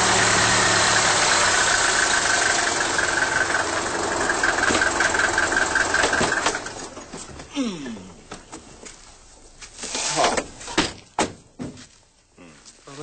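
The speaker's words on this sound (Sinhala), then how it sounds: "රන්රාජගේ කාර් එක." A car belonging to Ranraj runs with a steady, loud engine drone for about six seconds, then cuts away to quieter, uneven sounds with scattered knocks and voices.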